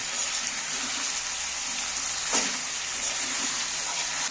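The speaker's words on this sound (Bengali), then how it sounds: "এইবার আমি একটু জল দিয়ে দিচ্ছি অল্প করে জল দিচ্ছি" A little water is poured into chicken cooking in a pan for a nut chicken dish, a steady close hissing gush with a brief splash midway, no talking.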